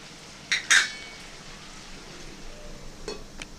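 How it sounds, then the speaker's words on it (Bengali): A metal pot lid clanks off twice in quick succession, then pumpkin, papaya and raw chickpeas are stirred quietly in the pan with soft scraping and a faint frying hiss. "ঢাকনাটা খুলে ভালো করে নেড়ে নিচ্ছি"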